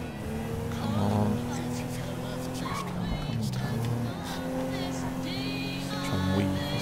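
Car engine hum and tire noise while driving in the video game GTA 5, a steady mid-level drone with game sounds and music layered over it.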